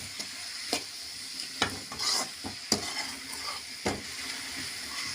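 A radish stir-fry is stirred in a hot pan, with a light sizzle under repeated scraping taps of a spoon against the metal.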